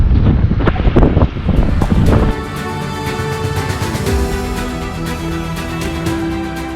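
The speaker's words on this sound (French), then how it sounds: "Il y a un peu de vent," Strong wind buffets the microphone during a road ride, a loud roaring rumble at first that eases into a steadier rush with a faint tonal whine beneath.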